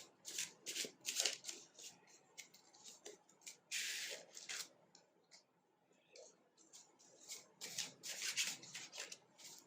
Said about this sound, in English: I'm just going to pick out a few cards as we go.